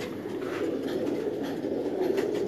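Pigeons coo softly and continuously under a steady wash of background noise, the calls blending into a low, even murmur.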